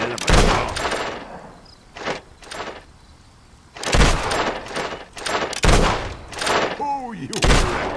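Repeated gunshots ring out at cardboard targets in a Fable 2 shooting gallery: loud, sharp cracks in quick bursts and single shots with short pauses between, some followed by ricochet-like whines, and no talk over them.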